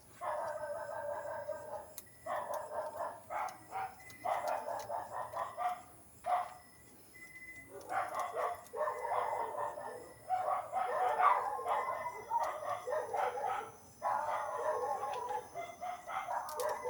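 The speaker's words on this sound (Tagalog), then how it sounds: "Ingay ng mga aso." Several dogs bark repeatedly in overlapping bursts, loud and continuous with brief pauses, a rooster-like cry mixed in among them.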